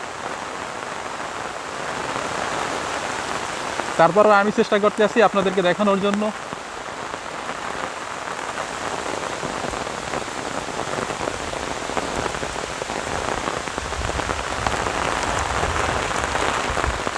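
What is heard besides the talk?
heavy monsoon rain falling in a village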